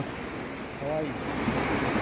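Rushing river water at Purkul village, a steady broadband wash of fast current heard close, with faint voices murmuring underneath.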